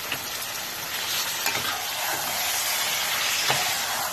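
Mutton sautés in spice mix for a Bengali rezala, a steady loud sizzle of hot oil with a few scraping stirs breaking through, close up and continuous.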